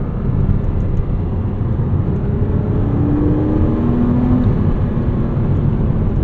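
A 2009 Porsche Cayman S (987.2) on the road, heard from inside as a steady, loud engine and road rumble with a faint whirring tone rising briefly midway, continuous with no talking.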